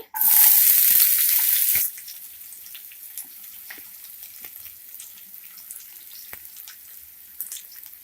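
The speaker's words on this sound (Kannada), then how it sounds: "ಎಣ್ಣೆ ಕೂಡ ಬಿಸಿಯಾಗಿದೆ. ಈಗ ಈರುಳ್ಳಿ ಹಾಕ್ಕೊಳ್ಳಿ." Onions dropped into hot oil in a kadai for egg rice burst into a loud, bright sizzle for about two seconds, then settle into a quiet, faint crackle with scattered small pops.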